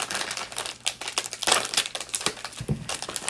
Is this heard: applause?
no